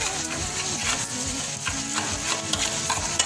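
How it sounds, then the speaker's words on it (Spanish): Rice mixed with turmeric is stirred and fried in a pan, giving a rhythmic run of scraping spoon strokes over a continuous close sizzle. "mezclando perfectamente bien nuestro arroz con la cúrcuma. Yo, porque lo frío en particular al arroz"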